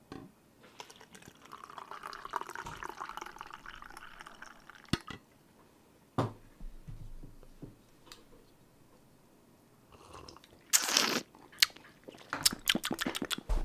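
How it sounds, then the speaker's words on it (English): Coffee is poured into a cup, a soft liquid trickle at close range, followed by a few clinks and light handling knocks in an otherwise quiet room. "pour some coffee here."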